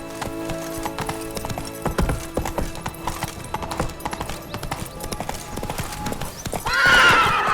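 Hoofbeats of a horse galloping in The Witcher 3 keep a steady clip-clop rhythm close by, ending in a loud, bright neigh over faint game music.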